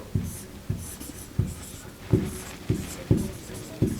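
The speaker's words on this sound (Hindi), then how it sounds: "मैं लिखती हूं" Pen scratching on paper as someone writes an example by hand during an English grammar lesson, with rhythmic strokes and taps about every half second, close and moderately loud.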